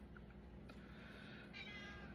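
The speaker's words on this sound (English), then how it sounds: "So she's going to be meowing at me because she knows I do that." A house cat meows indoors. Two or three short, faint meows rise over a low domestic background hum, with no one speaking.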